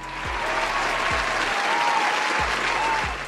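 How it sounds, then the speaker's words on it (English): An audience gives a short burst of steady applause, a dense even wash of clapping heard close and fairly loud, with a few low thumps underneath. "Can I get a round of applause?"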